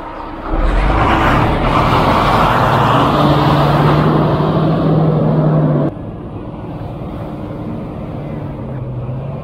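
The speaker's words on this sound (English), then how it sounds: "So we have buses here." Buses rumble along a Himalayan border road in India, a loud, broad engine roar that holds steady for several seconds, then drops off sharply and continues more quietly.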